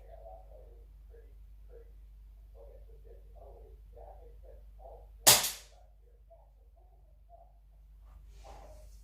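A single sharp air rifle shot cracks out midway, loud and abrupt with a quick decay, set against a quiet outdoor background with faint birdsong and low hum.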